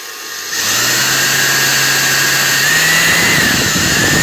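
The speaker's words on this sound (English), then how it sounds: "you're going to take your drill" A power drill starts up after a short quiet moment, then whines steadily and loudly up close, its pitch rising slightly as it bites into a plastic Traxxas X-Maxx RC car suspension arm.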